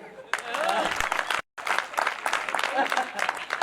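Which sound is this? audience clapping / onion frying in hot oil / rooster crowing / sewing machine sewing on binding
audience clapping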